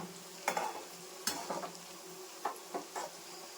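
Noodles frying in a pan until brown, with a soft continuous sizzle broken by several sharp scrapes and clinks of a spoon stirring against the pan, close and fairly quiet.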